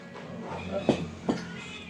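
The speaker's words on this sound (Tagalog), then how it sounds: "O yung nagmimimyo dito." A cat meows a couple of short times nearby during a road trip meal in Pangasinan, its cries rising over a low background murmur.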